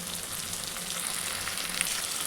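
Onion and tomato frying in a pan with salt for a potato and pointed gourd curry give off a steady, even sizzle that runs close and unbroken throughout, with no voices.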